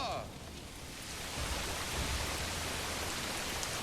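Steady rain hisses evenly throughout a battle in the medieval strategy game Manor Lords, with a faint low rumble underneath.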